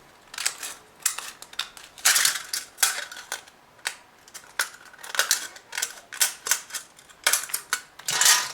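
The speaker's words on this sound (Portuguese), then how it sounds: "Então, vamos cortar a segunda tira." A second strip of material is cut for reusing old wheels, producing a steady run of crisp snipping and cutting sounds, close up and irregularly rhythmic, with no talk.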